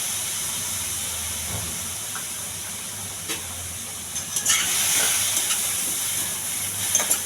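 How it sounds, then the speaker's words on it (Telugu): Chickpeas frying in a pan with a tempering of coriander, chili powder, turmeric and salt, giving a steady close hiss and sizzle throughout with a few louder crackling bursts toward the end. "ఈ ఉప్పు కారం బాగా పట్టేంత వరకు వేయించాలండి."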